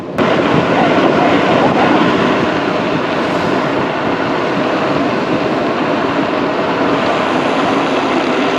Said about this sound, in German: der Wind, der schallert mir hier echt um die Ohren